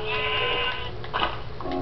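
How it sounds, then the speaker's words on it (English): Sheep bleating in Minecraft, a wavering blocky bleat followed by a second shorter bleat, loud and close with no talk over it. "Oh look, sheep. We need sheep."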